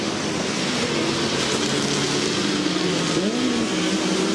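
Touring race cars lapping behind the safety car in the 2010 FIA WTCC race in the UK, a continuous close engine drone with a gear change and pitch rise near the end, no voices.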